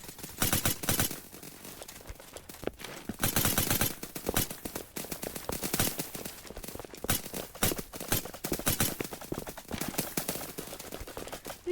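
Rapid bursts of gunfire from a Roblox shooting game, with a player firing on his own allies; dense repeated shots in clusters, loud and close with no talk.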